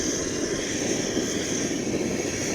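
A butane camp stove burner lit by a built-in piezo lighter roars steadily at a high flame, an even, loud, continuous rush of gas with no pauses.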